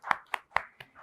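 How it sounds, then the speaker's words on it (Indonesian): A few sparse, separate hand claps, about four or five sharp slaps in a short, uneven rhythm, close and fairly quiet, greeting a guest star at an Indonesian talk show about the horror film Kuntilanak 3. "Kita kasih tepuk tangan dulu dong untuk bintang tamu kita hari ini."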